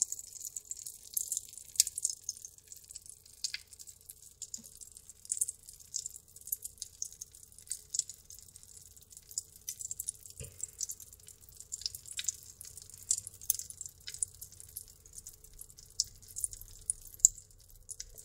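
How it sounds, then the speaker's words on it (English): Pop rocks candy fizzes and crackles in water, a steady stream of faint, tiny high snaps and pops going on without pause, with no voices. "So they won't stop popping."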